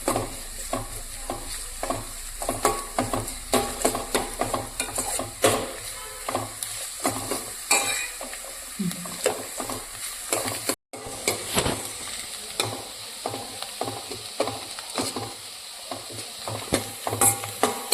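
Onions sautéing slowly over a low flame in a pan, giving a soft, continuous sizzle broken by repeated scrapes and clicks of a spoon stirring, with one brief drop to silence partway through.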